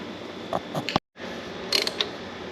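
A wrench ratchets in short clicking bursts while tightening tall cylinder head nuts on a John Deere B tractor, a few quick pawl clicks, a brief pause, then another run of clicks nearby.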